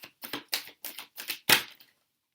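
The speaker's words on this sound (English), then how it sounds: "just get those last 2 cards out" Tarot cards slid and snapped out of a deck one after another, six or seven crisp papery flicks in quick succession with a louder final riffle as most of the deck nearly spills, close and clear with no talking.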